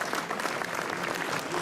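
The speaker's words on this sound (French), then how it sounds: "Vous pouvez l'applaudir." An audience applauding the enduro rider Kevin Bureau at a motorcycle prize ceremony, with dense, steady clapping from a sizeable crowd throughout, moderately loud and without a break.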